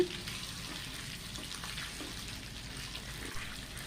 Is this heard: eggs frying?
yes